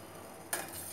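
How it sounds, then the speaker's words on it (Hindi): Sugar syrup for malpua bubbling in a pan, a soft simmer that turns suddenly into a louder bubbling hiss about halfway through and then keeps going steadily. "देखिए चाशनी उबल चुकी है, थोड़ी गाढ़ी भी हो गई है इस तरह से।"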